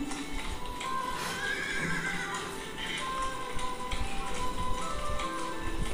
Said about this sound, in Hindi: कैमरे पे मिट्टी फेंक दी घोड़े ने